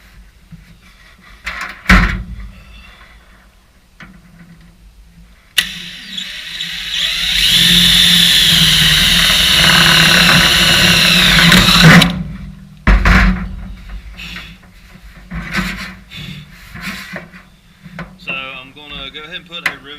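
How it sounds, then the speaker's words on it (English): A power drill bores rivet holes through a metal patch on race car decking, with one long steady run of drilling and shorter bursts around it, close and loud. "drill some holes for the rivets, and then just rivet it down"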